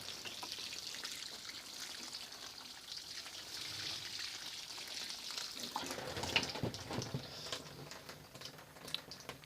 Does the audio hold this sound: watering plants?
yes